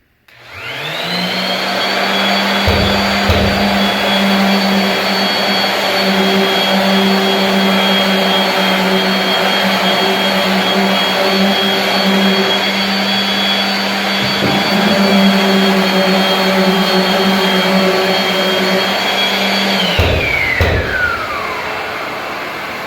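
A random orbital sander works on wood, running as a loud, steady motor whine with a constant tone. It starts up near the beginning, has a couple of brief dips in load, and winds down near the end.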